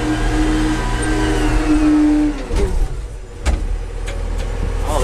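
A vehicle engine hums loudly and steadily close by while driving to pick up a load, with a brief shift in tone midway and a few light clunks from the cab.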